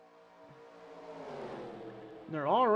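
NASCAR stock cars at Daytona in a 2003 NASCAR racing video game: the engine whine builds steadily and then jumps to a loud, wavering rev near the end, with a commentator's voice mixed into the sound.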